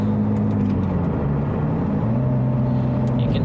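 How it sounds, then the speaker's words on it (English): Steady drone of a Porsche 996/997 fitted with a Numeric Racing transmission bundle, engine hum and gearbox whir heard from inside the car with windows closed, pitch shifting slightly as it runs, no talking. "you can hear what's going on in the gearbox"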